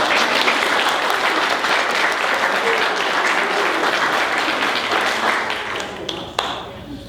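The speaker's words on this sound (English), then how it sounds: "Let's give her another round of applause." An audience gives a loud round of applause for a Rotary Global Scholar, a dense, sustained burst of clapping that stays full for several seconds, then thins and fades out at the end.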